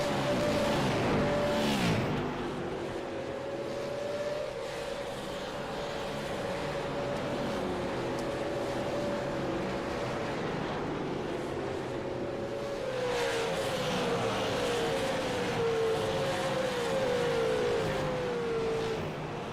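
Super late model race cars battling at Five Flags Speedway on the Mystic Super Late Model Tour: loud, droning V8 engines sweep past with rising and falling pitch, several cars close together, swelling and fading as they circle the track, with no talking.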